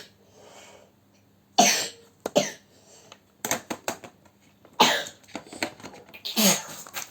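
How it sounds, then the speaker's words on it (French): A young child coughs in several short bursts, separated by quiet gaps, with some brief speech in between, recorded close up indoors. "Oui, mais parce que j'ai toussé."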